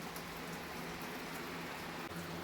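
Steady rain hisses down at night as a dense, even wash of drops that fills the whole short stretch at a constant level, with nothing else standing out.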